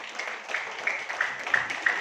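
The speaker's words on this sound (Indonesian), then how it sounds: "Tepuk tangan buat kita semua." Applause from an audience at a marketing plan presentation, fairly faint and steady clapping from a modest crowd, with no voices over it.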